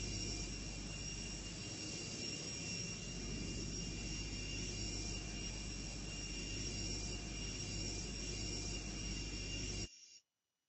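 Steady roar of a jet airliner engine, loud and continuous, holding constant before cutting off abruptly near the end; no voices.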